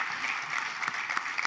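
Audience applause at a county state-of-the-county address, a dense steady clapping from a seated crowd lasting throughout with no speech on top.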